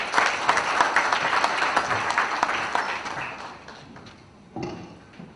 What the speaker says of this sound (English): Can we have a huge round of applause, sir?